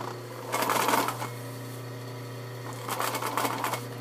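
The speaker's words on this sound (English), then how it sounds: "Then you do a couple of stitches, leaving the needle in, lifting the presser foot, just shifting it slightly" A sewing machine stitches fabric for a Birka hat in two short bursts, each under a second, with a quiet pause between them and a low steady motor hum running underneath.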